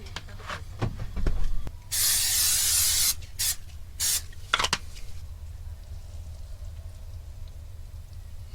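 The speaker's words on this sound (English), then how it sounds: "What a difference with the cooking spray." Cooking spray sprays onto a Canadian Tire waffle maker at a campground, giving one long hissing burst followed by several short sharp spurts, loud and close, with quiet clinks before.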